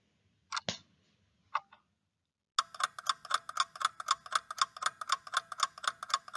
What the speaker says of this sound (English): the sound of the clock